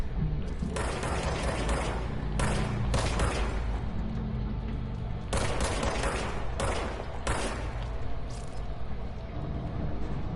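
Rapid bursts of gunfire from the shapeshifting Service Weapon in the video game Control crackle in dense, loud volleys, with brief gaps between strings of shots and a steady mechanical clatter underneath.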